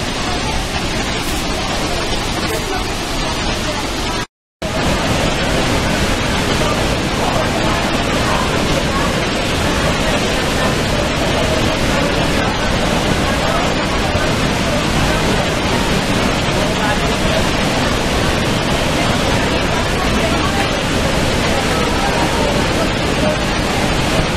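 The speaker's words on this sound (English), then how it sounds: "We can say that we took a shower today in the Niagara Falls giving us a shower." Niagara Falls thunders at close range as a dense, steady roar of falling water that fills the whole clip, briefly cutting out once near the start.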